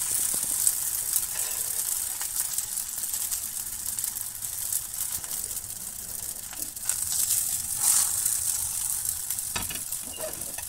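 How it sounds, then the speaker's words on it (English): Thin layers of katmer dough made from flour and water fry in oil in a pan, giving a steady, close hiss of sizzling with light crackles and occasional stirring or shifting sounds, no talking. "We start frying the layers one by one in the pan."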